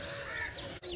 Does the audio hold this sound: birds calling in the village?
yes